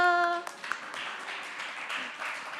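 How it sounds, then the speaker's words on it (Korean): A young adults' church congregation breaks into a short round of applause during Sunday service announcements, scattered hand claps following a sustained musical tone at the start. "박수!"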